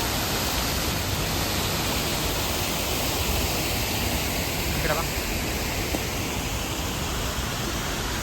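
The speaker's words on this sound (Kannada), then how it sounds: "ನೋಡಿ ಚೈಪರ ವಾಟರ್ ಫಾಲ್ಸ್ ಅಲ್ಲಿ ಎಷ್ಟು ಸಖತ್ತಾಗಿ ನೀರು ಹರಿತಾ ಇದೆ" A steady, loud roar of rushing water from Cheeyappara Waterfalls near Munnar, constant and broadband, with no pauses.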